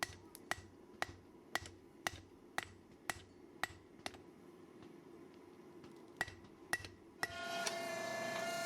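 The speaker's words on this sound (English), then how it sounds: "and then I'll clean it up with a hammer on the anvil." Hammer blows ring out on a Serbian-style cleaver blade of 80CrV2 and 15N20 steel laid over an anvil, about a dozen sharp metallic strikes at a steady forging rhythm, close and clear, then a louder hiss of ambient noise toward the end.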